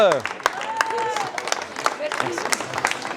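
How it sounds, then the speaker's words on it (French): An audience at a magic show applauds the magician's assistant, a dense patter of clapping running throughout, with a voice speaking and some whistled or sung tones rising over the crowd noise. "On va applaudir pour l'assistante."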